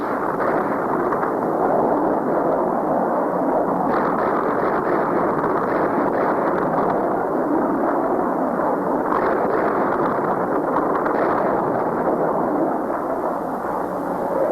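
Bombs from airstrikes explode in a Vietnam War documentary, a continuous heavy rumble of distant blasts that stays loud and dense throughout, with faint bursts standing out now and then.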